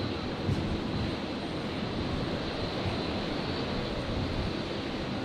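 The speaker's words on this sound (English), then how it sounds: "Virgin 336 heading off there" Virgin Australia jet departing Brisbane for Melbourne, a dense continuous engine roar, loud and steady from start to finish.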